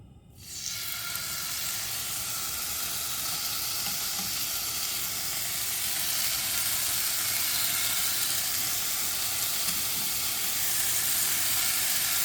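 Chicken pieces sear in a hot pan for restaurant-style butter chicken, a loud, continuous close sizzle that starts abruptly and holds steady with a hissing edge, no voices.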